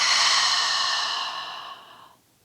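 A long, deep exhale during yoga breathing practice, a smooth breathy rush that starts loud and close and fades out over about two seconds, heard alone.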